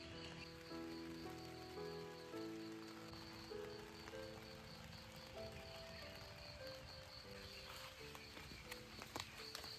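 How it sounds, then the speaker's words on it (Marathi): Steady rain patters down at a forest campsite at dawn, a dense even hiss of drops that runs throughout, with a melodic tonal backdrop layered over it and no talking. "बघा पावसाचे थेंब कसे पडतायत"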